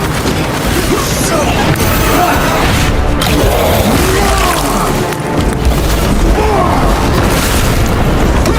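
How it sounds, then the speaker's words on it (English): Grenade blast in the Space Marines 2 video game: a loud, dense boom with crashing debris, heard amid continuous battle noise, with a voice speaking over it. "Grenade out!"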